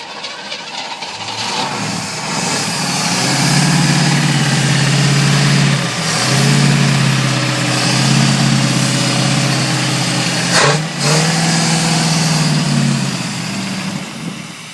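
A 1974 Pontiac Firebird Esprit 400 V8 roars loudly into life and settles into a rough, steady idle, with a couple of brief dips in its running.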